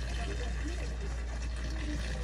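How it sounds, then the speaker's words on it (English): Antifreeze poured slowly down an RV bathtub drain during winterizing, a steady soft trickling flow lasting throughout, fairly quiet and continuous with a low background hum. "into your tub, pour it in as easy as you can"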